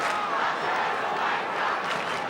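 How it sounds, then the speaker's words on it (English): Large football crowd at Telstra Dome for an AFL match between Carlton and North Melbourne in 2003, a dense continuous roar of many voices filling the stadium, loud and steady. "Good crowd in a Telstra Dome."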